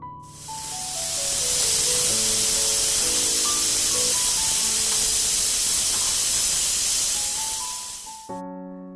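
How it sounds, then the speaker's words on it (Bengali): A pressure cooker cooking khichuri lets out a loud, sustained steam hiss that swells in, holds for several seconds, then cuts off abruptly, with faint musical tones underneath. "কুকারের মধ্যেই বসিয়ে দিলাম একটা সিটি মারলেই খিচুড়ি হয়ে যাবে রেডি"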